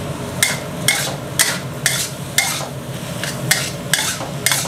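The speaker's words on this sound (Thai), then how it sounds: "ตามด้วยข้าวนะครับวันนี้จะผัดแห้งๆ" Cold rice is stir-fried dry with egg and pork in a soy-sauce style wok dish, with about nine loud, evenly spaced spatula scrapes over a low sizzle. The scrapes are close and there is no talk.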